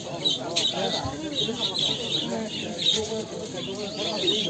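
Parrots and other birds squawk and chirp at a busy outdoor chicken and songbird market in Edirnekapı, frequent short calls mixed with steady crowd chatter and nearby talking.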